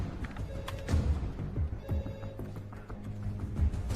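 A telephone bell rings in a film scene, repeated ringing bursts over busy background noise and low thuds, moderately loud and close.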